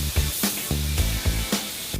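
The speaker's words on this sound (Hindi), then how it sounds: "एंड में क्लियर पेंट मैन्युअली स्प्रे करते हैं।" In a scooter factory, a hand-held spray gun coats scooter parts with clear paint. It gives a steady, loud hiss with rhythmic low thumping pulses from nearby machinery, and no one speaks.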